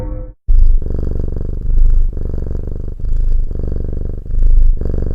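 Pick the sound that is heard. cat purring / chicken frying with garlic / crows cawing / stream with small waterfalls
cat purring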